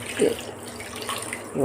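Water splashes and pours briefly into a container to mix telagapindi vadiyalu batter, with a voice speaking over the trickle.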